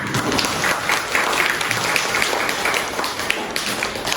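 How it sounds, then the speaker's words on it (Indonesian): A class of students applauds, many hands clapping steadily and fairly loudly in a room for several seconds without speech. "kita berikan applause tepuk tangan"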